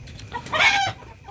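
A hen in a backyard chicken coop gives a single short cluck, close and clear, against a quiet background.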